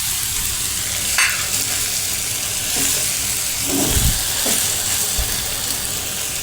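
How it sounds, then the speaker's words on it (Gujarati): Potatoes and red chili powder fry in a pan with a loud, continuous sizzle. A spoon scrapes through them a few times over the steady hiss. "આપણે પહેલાં થોડાક જ બટેટા નાખ્યા છે અને તેમાં લાલ મરચું આ રીતે નાખી દઈશું"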